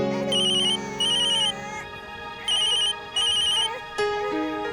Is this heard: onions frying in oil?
no